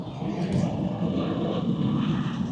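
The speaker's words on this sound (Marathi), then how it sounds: "प्लेन टेकऑफ झालेला आहे" An airplane taking off near Bangalore gives a continuous broad jet roar, fairly distant and steady with no break.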